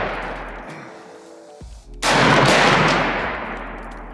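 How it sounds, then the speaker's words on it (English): A gun fires at an outdoor shooting range: a loud, close crack followed by a long ringing echo that slowly fades, set against a steady low rumble of background noise. "I'm gonna shoot the rest of this clip."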